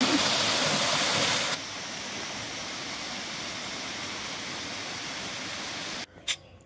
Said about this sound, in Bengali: তোমাদের অরিজিনাল সাউন্ড শোনাই এই ঝর্ণার।